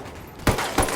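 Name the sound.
gunfire in video game Ghost Recon Wildlands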